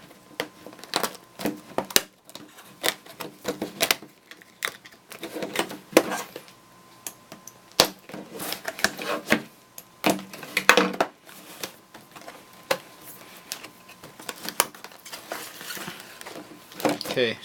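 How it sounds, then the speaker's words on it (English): An action camera's packaging is cut open during an unboxing, giving irregular sharp clicks, snips and plastic crackles at close range, scattered in bursts with brief quiet gaps between them. "I'm just going to start cutting away at it and seeing what I can remove."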